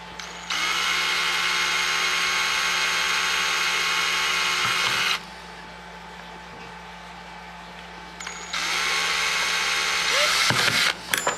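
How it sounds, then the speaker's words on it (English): A small bit drills pilot holes through a Kydex knife sheath, the power drill whining steadily in two long bursts separated by a short pause, with handling clatter near the end. "We'll drill our pilots."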